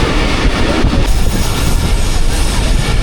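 A passenger train, the Rehman Baba Express running from Karachi to Rohri, rolls along the tracks with a loud, continuous rumble and rattle heard from inside, steady throughout with no voices.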